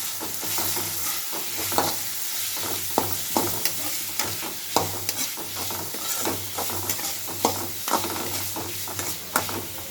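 Onions fry and sizzle steadily in a hot pan while a utensil stirs and scrapes, with repeated soft clicks against the pan, close and continuous.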